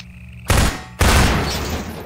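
Two heavy gunshots in the video game Half-Life 2, roughly half a second apart, each a loud broadband blast that leaves a long, booming tail fading out.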